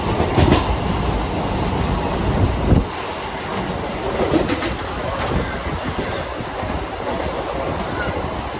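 A local train runs on the Howrah–Bardhaman main line, heard from on board as a loud, continuous rumble with rhythmic wheel clatter on the rails and brief clanks.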